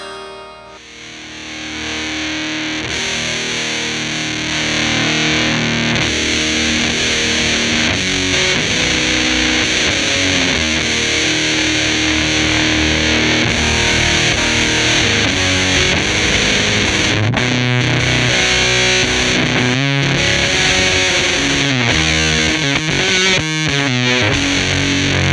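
Boss TB-2w Tone Bender fuzz pedal with its level turned up, driving an electric guitar into a thick, loud, saturated fuzz tone that rings continuously with chords and riffs throughout.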